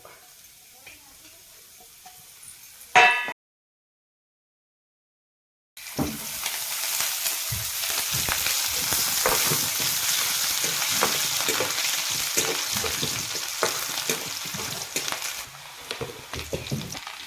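Chopped onion and kardai greens fry in a kadhai with a dense, crackling sizzle and frequent stirring scrapes, starting abruptly after a brief silence and holding steady to the end.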